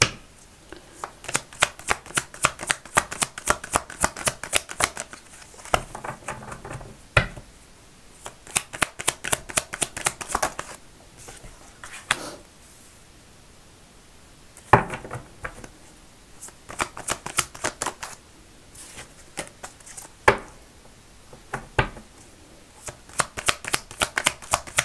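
Tarot cards being shuffled in repeated quick riffling bursts with short pauses between, close and crisp, during a card reading.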